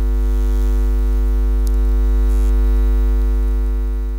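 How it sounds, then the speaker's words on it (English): Steady electronic mains hum captured by an Electrolush recording device near the Tušimice coal power plant, a loud, unchanging drone with layered tones that holds alone for the whole stretch. "this electronic humming that we get almost everywhere"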